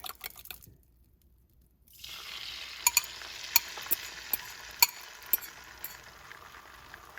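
A fork repeatedly scrapes and clinks against a skillet while cooking eggs in melted butter, over a steady sizzle, sharp metallic ticks spaced about half a second apart, close and clear.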